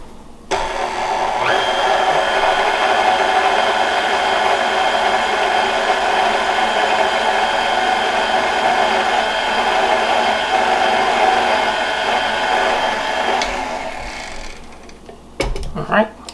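An electric stand mixer whirs steadily while mixing bread dough of AP flour and lemon juice, a loud, even motor drone lasting about thirteen seconds before it stops, with clatter and a voice at the very end.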